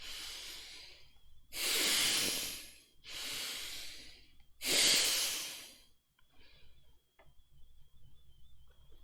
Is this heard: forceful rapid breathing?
yes